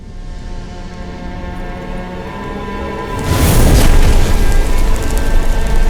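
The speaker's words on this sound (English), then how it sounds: "Fire! In here, quickly! The flames! Douse the flames!" A fire bursts into flames in The Witcher 3, a steady low rumble suddenly swelling into a loud, broad roaring whoosh that stays loud and crackling to the end.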